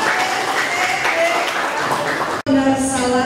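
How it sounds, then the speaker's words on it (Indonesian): An audience at the final of an Indonesian quiz competition (Lomba Cerdas Cermat 4 Pilar) gives a loud, steady burst of applause that cuts off abruptly and gives way to a tonal sound. "ya tepuk tangan dulu untuk"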